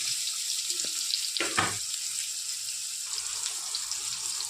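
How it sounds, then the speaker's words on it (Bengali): Eggplant frying in hot oil with salt and turmeric, a steady bright sizzle with a brief louder burst of spattering midway and a soft knock just before it, no voices. "বেগুনটা আগে একটু ভেজে নেব নুন আর হলুদ দিয়ে"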